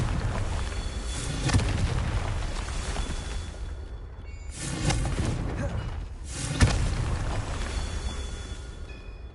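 Confringo fire spells blast in Hogwarts Legacy during the Merlin trials: several deep booming thuds with crackling tails, spaced a couple of seconds apart, while a voice talks over the game.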